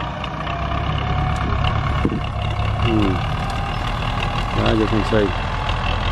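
A Belarus 800 tractor engine runs steadily at a low, rumbling idle, close by, under someone talking briefly, with a few faint clanks in the background.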